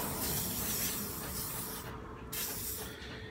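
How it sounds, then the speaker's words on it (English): WD-40 sprayed onto a motorcycle swing arm part during Honda CRF450R race preparation: a close, steady aerosol hiss running throughout, with brief dips in the upper hiss, no voices. "get that WD-40 I was talking about and soak this thing."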